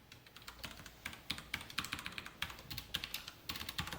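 Keystrokes on a computer keyboard as Java code is typed, a fast, irregular clatter of close, crisp key taps with short pauses between bursts.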